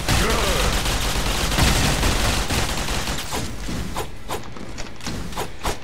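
Rapid gunfire from the online shooter GunZ 2, a dense, loud stream of shots with sharp bursts that thin into separated cracks near the end, alongside game ambience.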